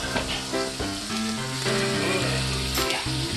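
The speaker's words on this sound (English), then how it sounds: "Then we cooked it in our grill pan with some olive oil." Food frying in olive oil in a grill pan, a steady close sizzle running the whole time with soft stirring clinks, under quiet background music.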